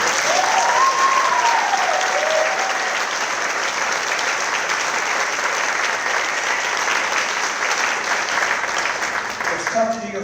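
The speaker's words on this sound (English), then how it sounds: "Have another round of applause for them." A few hundred concertgoers at a Great Woods Symphony Orchestra symphonic jazz concert give the soloists sustained, loud applause lasting about ten seconds, with a brief whistle early on, before it tapers off at the end.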